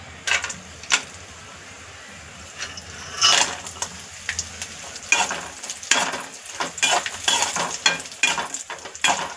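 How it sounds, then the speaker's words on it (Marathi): Dry fruits frying in a pan with oil for sweet coconut rice, a soft steady sizzle broken by irregular scraping stirs and clinks of a spoon against the pan, close by. "त्यानंतर जे सुका मेवा आपण घेतला होता सगळा तो आपण फ्राय करून घेऊया 2 मिनिटं।"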